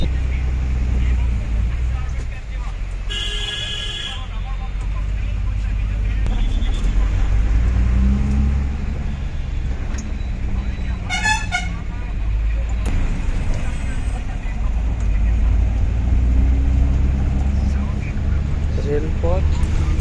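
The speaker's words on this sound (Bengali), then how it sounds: "মেঘালয় যাওয়ার পথে আমরা এখন আছি বাসে।" A bus rolls along a road near Dhubri, Assam, on the way to Meghalaya. A steady low engine and road rumble runs throughout, with brief higher tonal horn-like bursts and voices talking over it.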